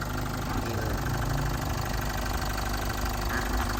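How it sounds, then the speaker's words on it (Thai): Motorcycles rev and idle nearby in a steady, continuous engine drone with knocking texture, moderately loud and with no talk. "ขออภัยนิดนึงนะคุณผู้ชมเสียงมอไซค์แถวนี้แซดกันเหลือเกิน"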